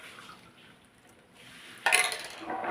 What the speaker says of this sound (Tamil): வாட்டர் மெலான் இருந்துச்சு, ஜூஸ் போட்டு வச்சுருக்கேன், ஊற்றிக்கலாம்